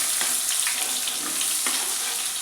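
Chopped onions dropped into hot oil already browned in a pan, giving a steady loud broadband sizzle with a few brief crackling bursts throughout.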